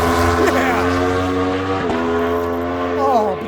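A 2021 Aprilia RSV4 superbike with its stock exhaust runs with a steady, close, tonal engine note, rising and falling briefly with throttle blips, while a person talks over it.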